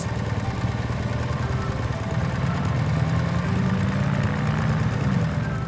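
A motorcycle engine runs steadily nearby, a low, continuous throbbing hum with a slight rise in pitch partway through.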